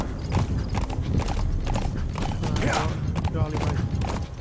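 Horse hooves gallop in a steady, rhythmic clip-clop in Metal Gear Solid 5: The Phantom Pain, with a brief whinny, continuous game ambience and a voice talking over it.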